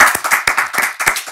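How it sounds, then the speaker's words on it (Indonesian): Audience applause with sharp rhythmic hand claps for Dan Dibyo, close and loud, a short burst of several separate claps. "Tepuk tangan buat Dan Dibyo."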